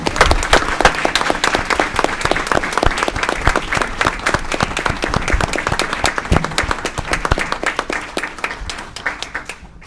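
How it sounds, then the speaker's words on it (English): A room full of people at a city council meeting claps loudly, with dense, rapid individual claps continuing steadily for about ten seconds and tapering slightly at the end. "Let's give that brother a round of applause."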